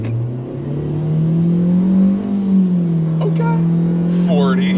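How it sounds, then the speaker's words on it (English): A 2023 Nissan Versa accelerates at full throttle, its engine droning loud and steady as the pitch climbs gradually, with a voice speaking briefly near the end. "We can get another full throttle experience."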